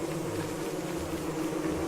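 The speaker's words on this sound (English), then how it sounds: "Oh no, angry bees!" An angry swarm of bees buzzes in the video game Don't Starve, a dense, steady drone that holds loud and unbroken throughout, with no talk over it.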